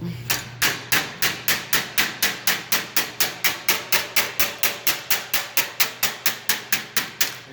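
Rapid, even hammer blows on sheet metal backed by a steel dolly while starting a flange, about three sharp ringing strikes per second, close and loud with no talk.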